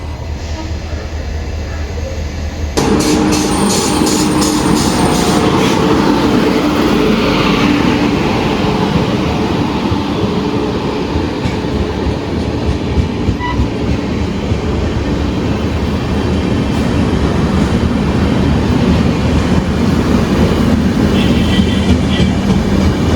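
The Okha–Ernakulam Express, hauled by a WP7 electric locomotive, pulls in with a loud continuous rumble, the wheels clacking rhythmically over the rail joints for over twenty seconds.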